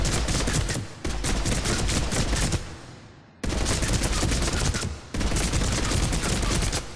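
A Revenant assault rifle in Mass Effect 3 fires in long full-auto bursts that are loud and close, each a dense rattle of shots, broken by two short pauses.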